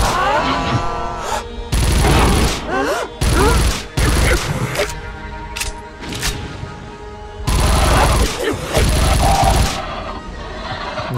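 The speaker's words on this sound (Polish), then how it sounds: "Zdecydowanie chyba ulubiona pukawka moja w tym momencie, bo fajnie tyra." A rapid-firing gun in the old-school first-person shooter Unloved lets off several loud bursts of fast automatic fire, broken by short pauses, with someone talking between and under the volleys.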